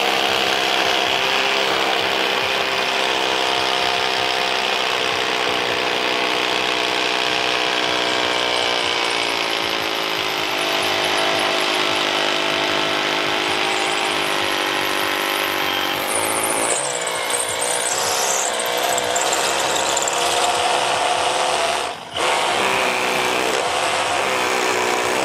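A Milwaukee SDS drill, M18 or M12 cordless, drills continuously with a loud, sustained motor whine and rattling hammer action, close up, with a brief pause and change in pitch near the end and no talk.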